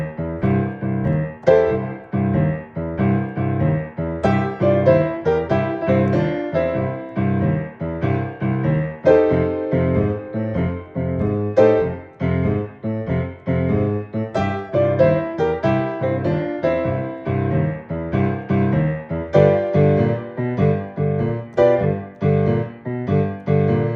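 Boogie woogie piano played in a relaxed band style, a steady rolling left-hand bass under bright right-hand chords and riffs, close and continuous with no talking.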